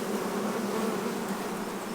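Dense, steady drone of many honeybees swarming around hot summertime hives in a beekeeping yard, a continuous close buzz with no voices over it.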